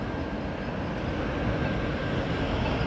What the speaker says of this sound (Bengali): একটি মেল ট্রেন যাচ্ছে, প্রসপেক্ট হাইটস রেলওয়ে স্টেশনে থামলো না